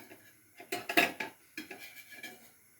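A frying pan is set down on a stove to cook an omelette, giving a cluster of close metallic clanks and scrapes over about two seconds, with a few lighter knocks afterwards and no talking.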